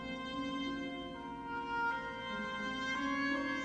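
Chinese gong raked with a triangle beater for a film score, a faint, sustained metallic shimmer with layered ringing overtones that swells slightly, heard alone.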